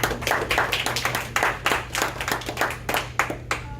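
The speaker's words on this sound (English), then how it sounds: "let's give Lynn a round of applause" A small audience at a real estate funding seminar claps for a speaker, a thin group of distinct hand claps in an uneven rhythm, fairly close, over a low steady hum in the room.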